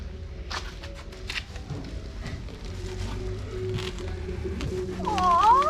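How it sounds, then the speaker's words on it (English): Quarrion (cockatiel) parrots newly arrived from Australia give scattered chirps and calls over a low background rumble, with a louder rising whistle near the end. "Red-breasted parrots arrived from Australia."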